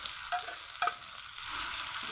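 Cut hog plums drop into hot oil with garlic that has been frying until lightly browned. Two sharp splashing bursts are followed by a steady, swelling sizzle close to the pan, with no voices.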